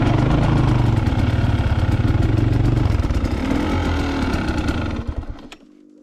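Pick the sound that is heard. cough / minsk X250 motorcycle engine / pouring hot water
minsk X250 motorcycle engine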